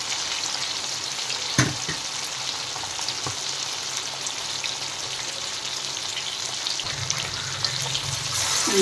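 Kasimedu vaalai fish fries in an oil-filled pan with a dense, even sizzle that holds close and steady, with a couple of faint utensil taps and no one speaking.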